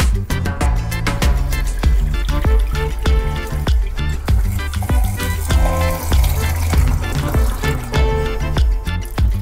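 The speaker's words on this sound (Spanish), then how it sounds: "Se enjuaga despacito porque siempre hay partículas chiquitas o recortes chiquitos." Running water rinses recovered 18k gold particles, making a steady, close, continuous splashing flow that lasts throughout with no voices.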